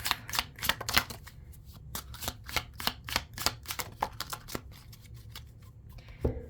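A handmade deck of cards is shuffled up close for a card reading, giving a quick run of crisp riffling and flicking bursts in an uneven rhythm, alone with no talk.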